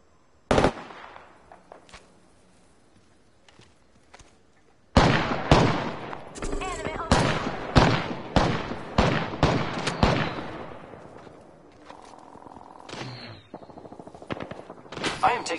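Gunfire in the video game Apex Legends: a single loud shot, a lull, then rapid bursts of automatic fire and scattered shots crowding close together, with game voice lines in between.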